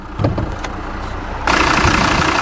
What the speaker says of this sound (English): The engine, it's a 2-litre turbo diesel.